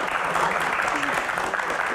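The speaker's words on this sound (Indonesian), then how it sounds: "bolehkah minta tepuk tangannya untuk yang belum menikah?" An Indonesian live show audience claps at the host's request, a dense, continuous wash of applause with voices murmuring and calling out underneath.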